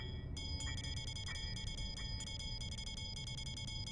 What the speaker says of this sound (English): Slightly worried the bell's ringing.